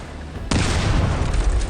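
A sudden loud blast in a video game, an explosion striking spaced armor, bursting in abruptly after a quiet lead-in and rumbling on with dense crackling debris.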